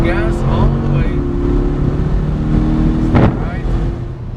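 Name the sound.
sports car accelerating at full throttle on a race track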